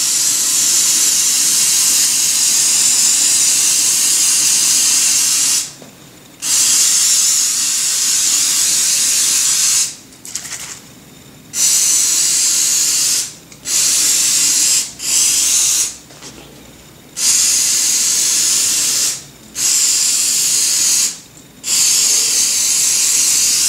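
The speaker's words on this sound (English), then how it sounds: "So you shake the can a little bit, and you'll just do one coat." An aerosol can sprays cleaner onto suede leather boots in a series of loud, close hissing bursts of varying length, separated by short pauses.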